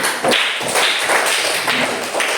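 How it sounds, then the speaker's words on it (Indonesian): Pupils in a classroom clap hands together, a steady, fairly loud patter of many claps with a few heavier, rhythmic accents standing out, close and without talk. "Bagus sekali. Tepuk tangan."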